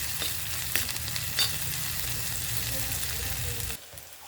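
Spices frying in oil for a village-style Kerala rasam make a steady, fairly close sizzle with a couple of stirring taps, dropping suddenly quieter near the end.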